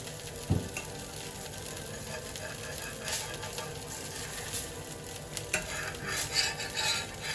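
A dosa of mixed pulses batter cooks with a teaspoon of oil on an iron tawa, giving a quiet, steady sizzle with a few soft scrapes and light metallic taps.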